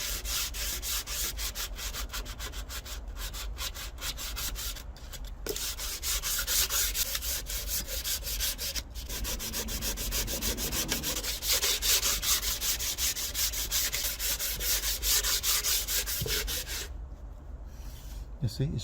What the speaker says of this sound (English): Next one, longer sanding board. A longer one. This, just block it slowly.